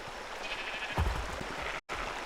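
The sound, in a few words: sheep bleating in video game ARK: Survival Evolved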